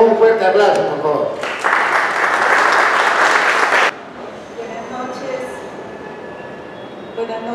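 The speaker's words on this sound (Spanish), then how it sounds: "recibamos con un fuerte aplauso," An audience at a book presentation breaks into loud, dense applause that lasts a couple of seconds. Speech can be heard before and after it.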